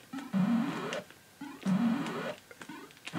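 Demon Attack on a VIC-20 computer gives off bright, sparkly electronic bleeps in two long bursts with a few short blips between them, played alone and fairly loud.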